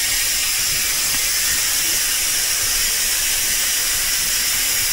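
A steady, loud hiss of pressure escaping from a stopped train, the Howrah–Puri superfast express, continuous with faint mechanical rattles underneath and no talking.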